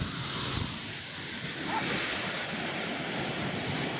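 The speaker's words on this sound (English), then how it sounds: "got the ocean crashing in on me" Ocean surf crashes in on a shore beside a hiker, a soft, continuous wash of roaring noise with slight swells, faint and wind-tinged, with no voices over it.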